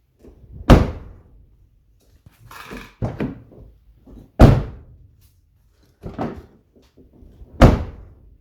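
A Pontiac Vibe GT car door without sound deadening slams shut four times at steady intervals, each a loud, close, hollow thunk, with a softer rustle of handling between the second and third closes.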